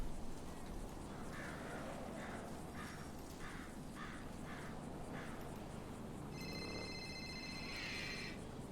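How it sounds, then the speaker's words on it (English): A phone rings in GTA V, a repeating electronic tone of about seven short evenly spaced bursts followed by a longer sustained chirping ring, over steady background noise. "Someone's calling me."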